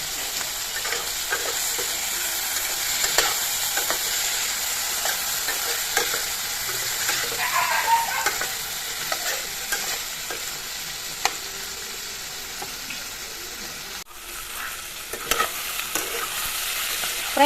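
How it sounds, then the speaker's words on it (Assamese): Fish frying in a pan with a spoonful of ground ginger, garlic and chili paste, giving a steady close sizzle and hiss with intermittent stirring scrapes throughout, and no voices. "প্ৰায় 1 মিনিট সময় মাছখিনি ভজা হৈ গ'ল"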